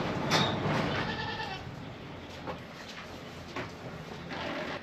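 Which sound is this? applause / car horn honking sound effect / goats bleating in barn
goats bleating in barn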